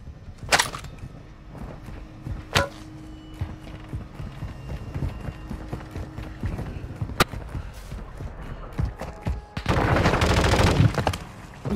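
Scattered gunshots crack out in a Warzone match, a few sharp isolated reports followed by a denser burst of rapid fire near the end, mixed with clattering footsteps and faint background noise.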